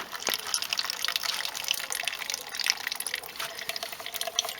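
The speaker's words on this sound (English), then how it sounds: "I'm going to see if I can drain the fluid. I'm just going to pop the pipe off here." Washer fluid drains from a disconnected pipe into a pot during washer jet repairs on a Nissan Sunny Pulsar, a steady, fairly quiet trickle and splash with no voices.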